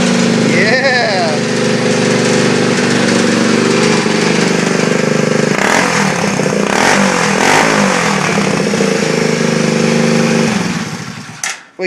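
A rat rod lawn mower engine runs close and loud with a rough, raspy exhaust, idling steadily and then revving in a few bursts before cutting off near the end, while people talk over it.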